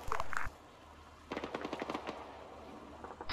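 Rapid bursts of automatic fire from an MK machine gun in the military shooter Arma 3, a short loud burst followed by a longer rattling string of shots at moderate distance, no talk.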